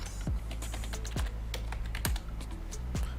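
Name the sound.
typing on a computer keyboard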